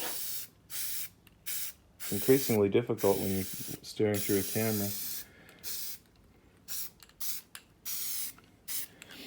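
Short hissing bursts of spray paint are applied to the edge of dirt track bodywork, several quick sprays separated by pauses, while someone talks nearby between them.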